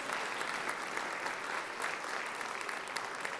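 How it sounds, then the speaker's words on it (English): Sustained applause from an audience at a school board meeting, honoring an elementary school team; dense, even clapping throughout at moderate distance, with no speech over it. "another big round of applause for this awesome team from Roosevelt Elementary, led by Ms. Sylvia Ruiz."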